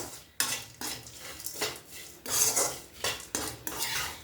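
Bitter gourd fry with garlic chili powder is stirred in a pan over low heat. A metal spoon scrapes the pan in a steady rhythm, about two strokes a second, and the sound is soft and close.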